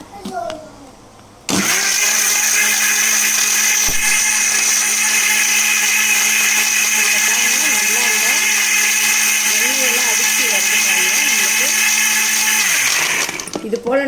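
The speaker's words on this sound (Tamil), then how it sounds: "இப்போ நான் வந்து இதை திருப்பியும் அடிக்க போகிறேன்" A blender jar churns cream with ice water into butter, a loud, sustained motor whine that starts suddenly and runs steadily for about eleven seconds before cutting off, with a voice faintly audible underneath.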